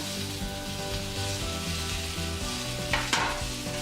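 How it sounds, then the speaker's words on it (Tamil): Onions and garlic sautéing in a pan, a steady moderate sizzle with a low hum underneath and a couple of sharp utensil knocks near the end, no speech. "அதை லைட்டாக வதக்கி விடுங்க. வெங்காயம் பூண்டெல்லாம் கொஞ்சம் நல்லா வதங்கட்டும்"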